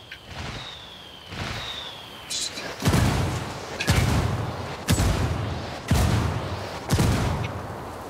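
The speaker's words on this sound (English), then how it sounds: "I called the rebels for some indirect fire." Rebel indirect artillery fire in Ghost Recon Wildlands lands as a steady series of five heavy blasts, about one each second, after a quieter opening with a faint tonal whine.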